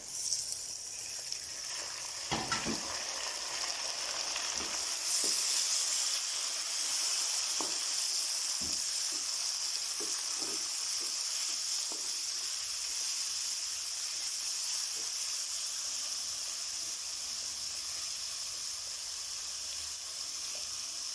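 Chicken frying in hot oil in a pan for a bhindi chicken masala, a steady bright sizzle with occasional clicks and pops of utensils, continuous throughout and no talking.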